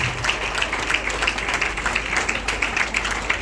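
Applause fills a hall at a memorial for Mr. Boubakis, a steady wash of clapping from a crowd that holds at moderate loudness throughout, slightly distant.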